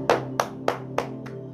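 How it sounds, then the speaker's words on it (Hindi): Five sharp slaps of hands striking feet during a whole-body warm-up exercise, evenly spaced at a steady rhythm, close and distinct, with a faint low hum in the background. "दोनों हाथ से जैसे ताली बजाता है ऐसे हाथ और पैर में ताली बजाओ"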